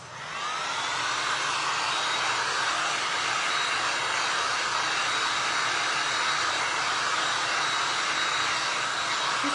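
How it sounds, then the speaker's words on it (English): A blow dryer or heat gun runs steadily at close range to dry stencil paint on glass for resin art, a constant loud airy roar that holds without a break. "I'm gonna hit this with a blow dryer or with my heat gun just for 5 seconds."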